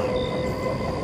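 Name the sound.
train running, sound effect in audio story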